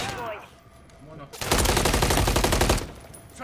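A burst of rapid automatic gunfire in Call of Duty MWIII rattles loud and close for over a second after a quieter stretch with a voice.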